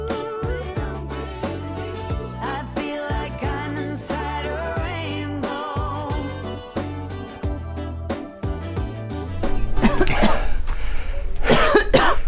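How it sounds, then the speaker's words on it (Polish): Inside the Rainbow Cave on Hormuz Island, Iran, where the air is thin, a person breaks into several harsh, close coughs near the end after a stretch of music. "Czego tak kaszlasz?"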